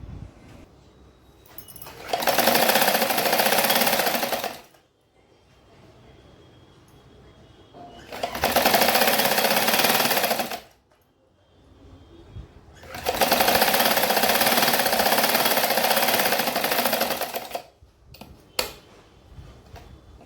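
Sewing machine stitching fabric pieces together for a roti organiser, running in three loud sustained bursts of a few seconds each, separated by brief quiet pauses, close up with no speech.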